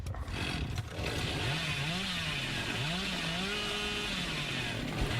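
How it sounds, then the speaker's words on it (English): A chainsaw revs in Dead by Daylight, a loud, continuous buzzing drone whose pitch rises and falls in repeated swells over steady game background noise. "he's being very twitchy with his chainsaw, but not actually landing it"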